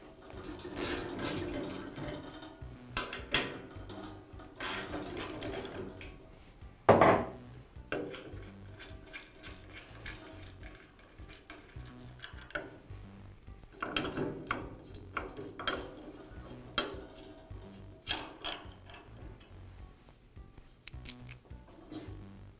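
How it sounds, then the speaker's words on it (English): Bolts and a trunnion support bracket being removed from a Jet band saw, with close irregular metallic clinks, taps and scraping of tools and parts, one sharper clank partway through, no speech. "Now I can remove the trunnion support bracket from the saw."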